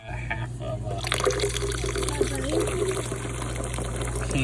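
Soda water trickles and splashes as it is poured into a blended mint drink at a campground, a faint liquid pour under a steady low hum, with a voice talking over it.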